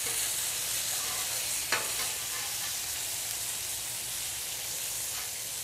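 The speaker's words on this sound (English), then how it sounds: "you can probably take one of your spatulas and flip that bacon over" Bacon sizzling on a Blackstone griddle, a steady dense hiss and crackle close by, with a brief scrape or tap partway through and no talking.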